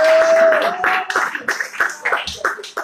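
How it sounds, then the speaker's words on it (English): A church congregation claps in scattered, uneven bursts of hands, fairly close, while a sustained tone fades at the start. "Give God a round of applause."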